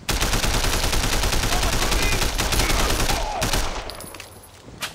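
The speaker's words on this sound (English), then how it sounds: "Like machine gun." Sustained machine gun fire in the open-world game Sleeping Dogs, a dense loud rattle lasting several seconds before tapering into quieter game ambience.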